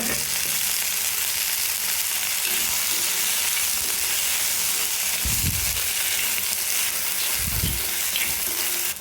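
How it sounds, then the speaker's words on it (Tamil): Chopped broad beans (avarakkai) sautéing with onions in a pan give off a steady loud sizzle throughout, with a couple of brief scraping stirs and no one talking. "இப்போது இது கூடவே நம்ம காய் சேர்த்து வதக்கிக்கலாம்."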